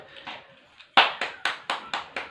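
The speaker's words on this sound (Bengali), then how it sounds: "চলো, হাততালি হোক, হাততালি হোক" Hands clap at home to cheer on a chowmein-eating challenge: a few soft claps, then six sharp, evenly spaced claps close by in a quick steady rhythm.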